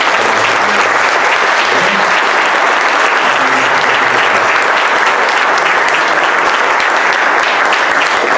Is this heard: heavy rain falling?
no